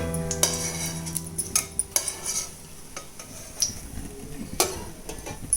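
Bread slices frying in ghee in a pan, with repeated metallic clinks and scrapes of a utensil against the pan over a light, continuous sizzle.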